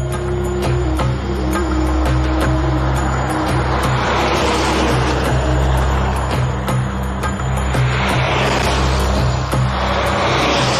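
A truck engine rumbles with a steady low drone as it passes on a quiet road, loud and continuous for several seconds without talk.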